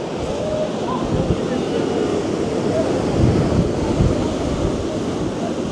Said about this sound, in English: The waves are looking crazy today.